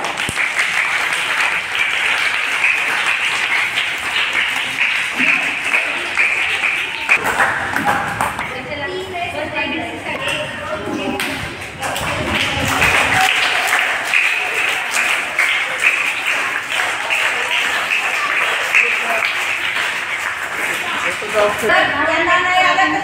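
Applause from a classroom of young children at a spell bee contest, steady clapping throughout with voices chattering over it and a brief lull partway before the clapping picks up again.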